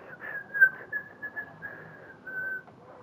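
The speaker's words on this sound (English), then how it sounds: "Finally, you can whistle." A person whistles a single sustained, slightly wavering tone for about three seconds, with brief louder peaks, fairly quiet and with no talking.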